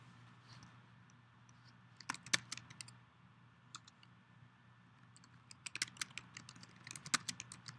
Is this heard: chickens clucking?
no